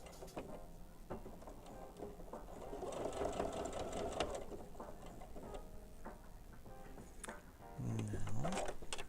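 Sewing machine stitching a seam while taking in a pair of pants, a close, steady mechanical whir with rhythmic needle ticking, briefly stopping and restarting for a few stitches and a back tack.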